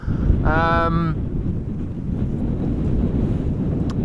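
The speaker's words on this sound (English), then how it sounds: "Wind has only been increasing." Strong crosswind roars steadily across the mic at Amsterdam Schiphol Airport, a loud broadband rush that holds for the whole stretch, with a short voice near the start.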